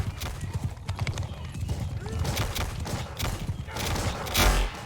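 Horse hooves galloping in Bannerlord, a game set in the 1700s with firearms, a rapid clip-clop beat under battle noise with distant gunfire and a brief whinny.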